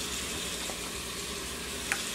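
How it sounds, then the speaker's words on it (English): Chicken broth is poured into a hot Instant Pot holding shrimp for shrimp scampi, producing a steady, moderately quiet sizzle and hiss with a small splash near the end. "Then I'm going to pour in some chicken broth."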